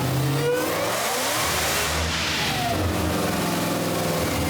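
Stock Dodge Demon 170 with an 8-speed automatic, its engine revving hard on a dyno, a loud, close, sustained roar with rising and falling pitch and no talking.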